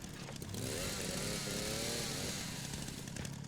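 Chainsaw in the video game Resident Evil 9 Requiem, a buzzing two-stroke engine drone that rises and revs in the middle, steady and moderately close, with no voices over it.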